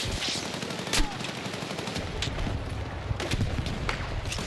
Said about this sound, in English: Ooh, that's a sniper.